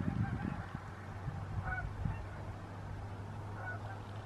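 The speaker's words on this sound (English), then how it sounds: "Can you guys hear the geese?" Geese honk faintly in the distance as a flock flies south over a small natural pond, scattered calls over a low steady hum.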